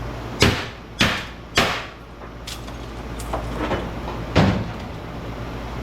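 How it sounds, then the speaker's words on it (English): Several sharp metallic bangs ring out, three in quick succession, then a pause and a couple more, as a hammer strikes scrap metal while scrapping for copper and aluminum. "That hammer makes light work of this stuff."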